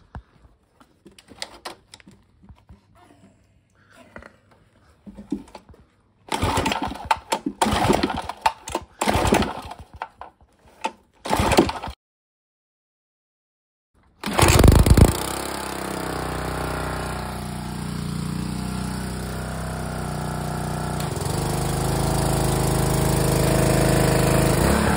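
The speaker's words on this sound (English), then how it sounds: "It was revving really high, and it was staying too high when I let off the gun." A homemade water blaster driven by a 3.75hp petrol engine runs loudly, starting with uneven bursts and then settling into a steady, high, sustained rev close by with a gritty mechanical roar.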